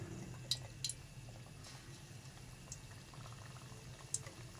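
Sliced potato pakoras in gram-flour batter sizzle quietly in hot oil, a soft bubbling crackle with a few sharper pops scattered through.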